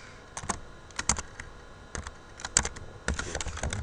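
Fingers typing a file name on a computer keyboard make quick, irregular clusters of crisp key clicks, close and fairly quiet, with brief pauses between bursts.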